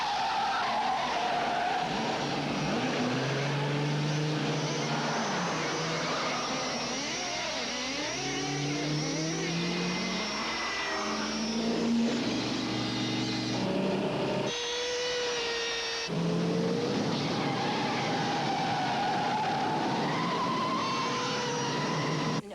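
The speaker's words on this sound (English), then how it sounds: "Harry's car is chased by a tiny model car that has plastic explosives inside." Car chase from the 1988 film The Dead Pool, with Harry's car pursued by a tiny explosive-laden model car: loud, continuous tire squeals and skids with swooping pitch, over racing engine noise and no talking.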